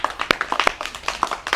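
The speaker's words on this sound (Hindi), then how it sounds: "भैया जी के लिए तालियां बजाओ।" A small audience claps during a Jain religious discourse, sparse and uneven hand claps tapping out in quick irregular bursts, close and moderately loud with no talk over them.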